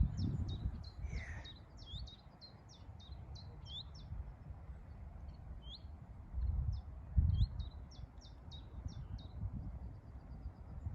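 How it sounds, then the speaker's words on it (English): A willow warbler and a chiffchaff sing faintly in the distance, a string of thin, high repeated notes over a low outdoor rumble. "where I keep hearing the willow warbler and the chiffchaff"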